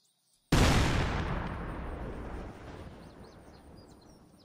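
A single loud TNT blast in a Minecraft zombie mod, opening with a sudden booming crack after brief silence, then a long rumbling decay that fades over several seconds.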